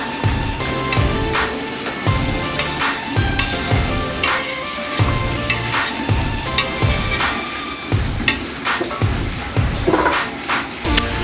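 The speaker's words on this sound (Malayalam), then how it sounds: "ഇതിലേക്ക് ഉള്ളി ഇടാം." Chopped onions sizzle and fry in leftover oil in a pan for chicken kondattam, a steady bright crackle broken by repeated stirring scrapes throughout.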